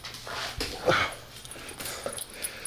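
A house dog whimpers and yips eagerly, wanting to go outside on a cold winter morning, several short, high whines close by with some rustling and movement around it.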